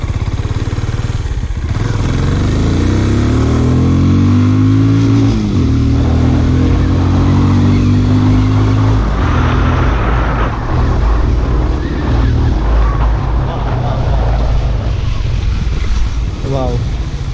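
A Benelli Imperiale 400 motorcycle pulls away on a straight road, its engine climbing through rising revs and gear changes amid heavy wind rush.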